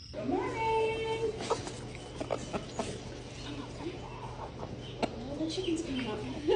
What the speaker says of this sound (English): Oh, the chicken's coming up.